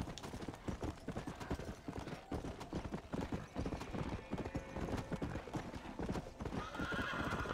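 Steady, rapid hoofbeats of a horse galloping out of town in Red Dead Redemption, loud and continuous throughout with a faint neigh, no speech.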